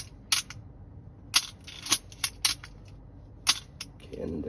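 A Canon AE-1 film camera's shutter fires repeatedly up close, sharp mechanical clicks and clacks spaced irregularly in a quiet room, with paired open-and-close snaps at the longer one-second setting.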